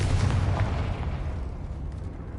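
A Confringo blasting spell explodes in the Hogwarts Legacy video game with a heavy, booming burst that opens loud and rumbles away over a couple of seconds.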